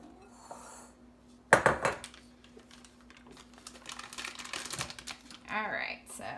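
A knife chops through an ingredient for cupcakes on a board. One sharp clatter is followed by a run of quieter tapping and scraping cuts, with faint handling noises near the end.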